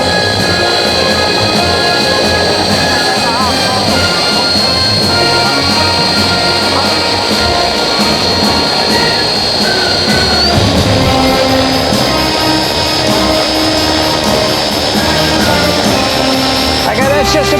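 A rocket-powered RC helicopter throttles up with a loud, continuous roaring hiss and a whining tone that climbs in pitch partway through, with voices faintly beneath.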